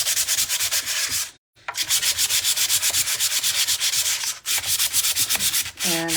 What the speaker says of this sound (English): I'm going to use a little piece of sandpaper